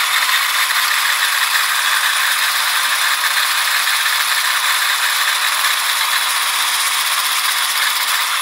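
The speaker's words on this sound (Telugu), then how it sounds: "మిల్క్ పొంగొచ్చేసిన తర్వాత హ్యాండ్ బ్లెండర్ తీసుకొని ఫోమ్ వచ్చే వరకు ఇలా నండి" A hand blender froths boiled milk for masala tea, giving a loud, steady mechanical whir with a rattling buzz that runs unbroken throughout, no voices.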